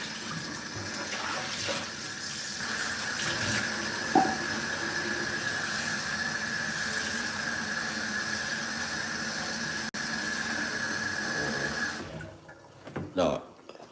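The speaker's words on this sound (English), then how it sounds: "Nice to wash them off like this. Because the water is filtered water." Filtered tap water running steadily into a kitchen sink while something is rinsed under it, a continuous hiss that stops abruptly near the end, followed by a few clinks.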